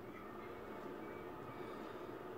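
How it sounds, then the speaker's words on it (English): A passenger train in a video game: a steady, even rumble of the train running, constant in level with no breaks or voices, heard alone for a couple of seconds. "Yeah, train."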